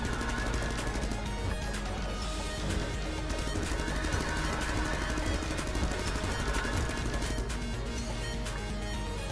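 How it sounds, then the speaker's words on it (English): Machine gun fire in the rhythm game Heart Beats, a dense and steady rattle of rapid shots running under music at moderate loudness throughout. "I really like the machine gun sound."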